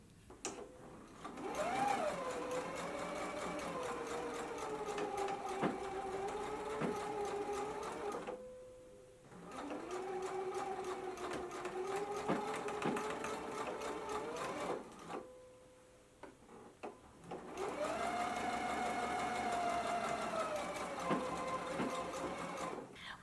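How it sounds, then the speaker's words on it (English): A serger stitches the outer edge of a dress facing in three long runs separated by short pauses, its rapid mechanical whir steady and close, with no voices. "I'm going to be using my serger. So let's go ahead and stitch it in place now."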